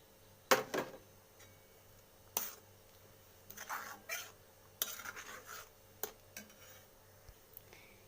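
A spoon scrapes and stirs fried grated coconut with cardamom in a pan while making coconut naru, in quiet separate strokes and clinks with pauses between them, close and fairly faint.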